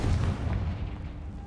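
A Confringo spell explosion in Hogwarts Legacy bursts with a loud fiery boom right at the start, then a rumbling tail that slowly fades.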